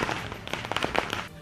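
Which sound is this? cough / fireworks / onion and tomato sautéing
fireworks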